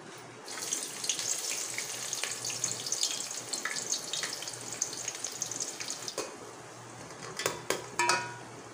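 Onions frying in a pan for achari aloo salan: a faint, steady sizzle with light kitchen clatter, and a few louder clanks of utensils near the end.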